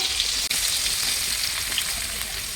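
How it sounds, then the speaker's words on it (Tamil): Onions and green chillies fry in a pan with a steady, close, continuous sizzle and crackle that carries on without a break. No one talks over it. "பச்சை மிளகாய் வதங்கிடுச்சு இப்போ வெங்காயம் சேர்த்துப்போம்"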